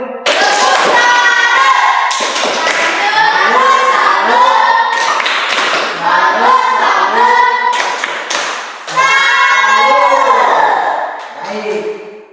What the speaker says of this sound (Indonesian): Baik, tepuk tangan untuk Doli.